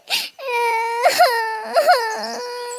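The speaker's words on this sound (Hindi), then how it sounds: "वो छोटा बच्चा रोने लग जाता है" A small child crying in a Hindi cartoon, a close, loud wailing sob with breathy catches and rising and falling whimpers, heard alone without other talk.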